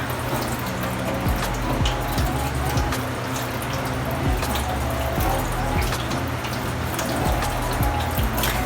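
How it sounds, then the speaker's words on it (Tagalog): Tap water runs steadily into a sink while hands are rinsed under the stream, a loud, close, continuous splash with small irregular spatters and a low hum beneath. "Rinsing mechanically washes away the dirt and the microorganisms into the sink"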